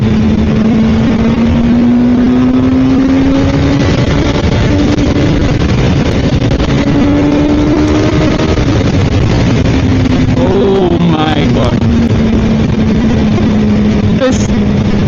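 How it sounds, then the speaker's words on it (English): Suzuki Katana K5 1000cc motorcycle engine running steadily, a loud constant drone with a slight rise and fall in pitch throughout, alone with no talk. "this K5 1000cc motor"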